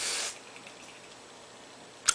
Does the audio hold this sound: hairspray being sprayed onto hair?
yes